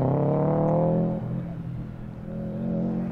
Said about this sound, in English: But this all-wheel drive Sub with Ryan at the wheel,